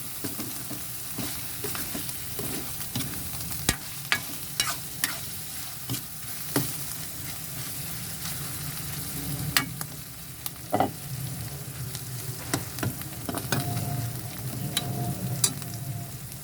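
Pork sizzling in its own rendered fat in a pan, a continuous frying hiss broken by frequent clicks, pops and spatula scrapes, close and with no talk.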